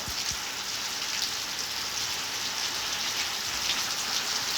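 Steady rain pours down onto surfaces as a dense, continuous hiss with scattered drops, close and fairly loud with no voices.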